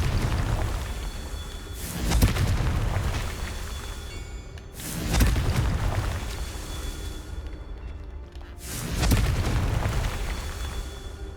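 Three heavy booming blasts from the Confringo fire spell in Hogwarts Legacy, each a loud burst of broadband roar that swells and fades, spaced about three seconds apart over a continuous low rumble.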